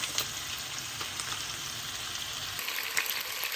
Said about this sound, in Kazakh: Тауық еттерімізді осылай сары майда екі жағын қазір қызыл-қызыл қылып тастап тұрып қуырып аламыз